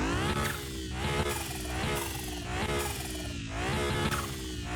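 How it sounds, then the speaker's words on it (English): A 2022 Nissan Z's high-pitched, whiny turbo V6 in a car mechanic video game revs up and down repeatedly, loud and close, with a turbo whistle riding over the rising pitch. "That is a very whiny little V6, and I absolutely love it, especially with them turbos whistling away"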